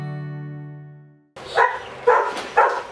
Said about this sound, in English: The dogs are barking outside.